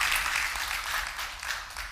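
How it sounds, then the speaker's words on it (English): An audience in a church public affairs forum applauds a speaker, giving a dense, continuous wash of clapping that holds steady throughout, with no talk. "Let's give Alan a round of applause"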